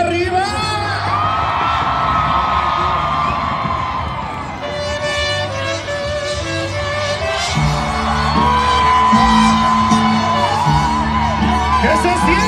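A large crowd at a Mexican fair concert shouts, whoops and cheers continuously and loudly, with an amplified voice urging them on over music throughout.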